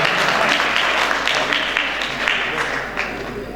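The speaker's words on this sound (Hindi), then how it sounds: "एक बार तालियां हो जाए।" Audience at a Hindi poetry gathering (kavi sammelan) clapping on request, a broad continuous patter of many hands, steady and fairly loud, gradually easing toward the end.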